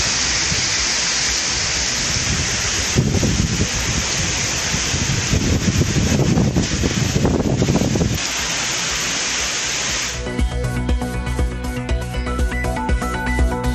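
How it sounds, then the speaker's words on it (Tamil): Heavy rain with hail pours down steadily in Coimbatore, a dense, loud wash of water and pelting that swells in the middle and stays constant throughout, with no voices. "கனமழை வெளுத்து வாங்கிய நிலையில் ஒரு சில இடங்களில் ஆலங்கட்டி மழை"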